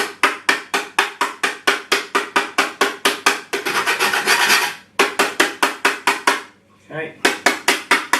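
Rapid rhythmic rasping of an orange rubbed against a metal grater for an orange honey coconut cake, loud and close, with a brief longer scrape midway and a short pause before the strokes resume.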